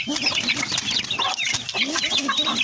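Close, busy clucking, with rapid high peeps and chirps from a newly hatched chicken chick layered over each other in a continuous stream.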